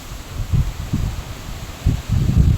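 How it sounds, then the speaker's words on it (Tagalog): Strong wind gusts rush through banana plants in a Filipino farm plot, arriving as low, buffeting surges of rustling and microphone rumble in several uneven bursts. "Sobrang lakas talaga ng hangin mga palangga."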